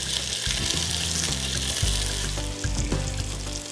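Bacon lardons browning in a hot pan give a steady, close, crackling sizzle that holds at an even loudness throughout.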